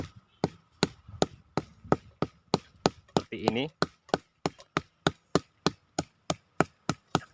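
A hammer strikes a bonsai trunk over and over to strip its bark, sharp wooden knocks in a steady, even rhythm of about three per second, close and loud, with a brief spoken phrase partway through.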